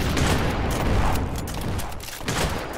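Repeated shotgun blasts in the Roblox game Jailbreak: a quick run of loud, punchy shots fired close together, with the last ones spaced a little further apart.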